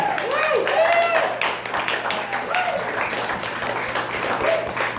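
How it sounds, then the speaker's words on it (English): An audience applauds at a charity comedy night, dense steady clapping filling the room while a voice speaks over it through the middle. "Let's give one round of applause for everybody who's been up here tonight so far."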